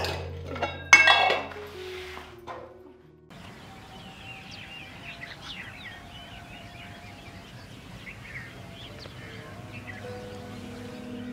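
Pots and utensils clink and clatter in a home kitchen while vegetables are cooked and a tempering is prepared, a cluster of sharp metallic knocks at the start followed by quieter sizzling and faint clinks throughout.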